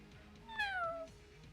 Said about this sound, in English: It kind of sounds like a cat, I guess.